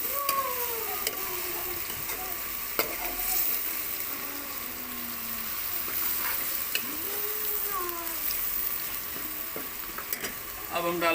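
Garlic ginger paste fries in a pan with a steady soft sizzle, joined by occasional stirring scrapes, faint and close.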